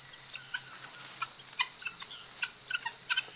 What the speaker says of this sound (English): they live in noisy flocks, clucking to help keep the group together